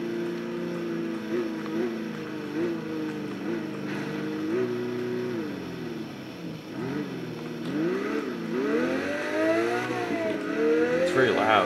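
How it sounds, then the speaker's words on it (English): A Pagani Zonda in the racing game Test Drive Unlimited 2 revs and drones with a rising and falling engine note, loud and continuous, with crackling backfire pops toward the end as a person talks over it. "this one's backfiring too. Every single Zonda in the game backfires"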